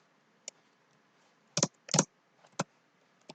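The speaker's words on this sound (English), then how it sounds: "Typing too fast here." Typing on a computer keyboard in short bursts: a single click, then a quick cluster of several keystrokes, followed by a few scattered taps, close and fairly soft.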